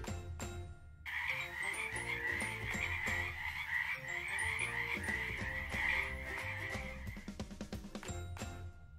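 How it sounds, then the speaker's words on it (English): Frog croaking sounds from a children's alphabet song. A steady, loud chorus of croaks runs for most of the span with music tinkling along, and no one speaks. "F for frog."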